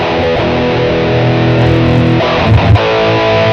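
Heavily distorted electric guitar through an Electro-Harmonix Tone Tattoo pedal sustains thick, saturated chords, loud and close, with a couple of picked accents near the end.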